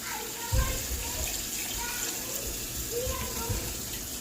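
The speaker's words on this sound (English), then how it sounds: "I'm going to add some milk. This is just regular whole milk." Whole milk poured into a pan of melting food, a soft continuous liquid splashing close by with a few small clunks, under light background noise.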